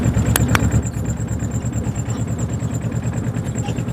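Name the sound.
running vehicle engine noise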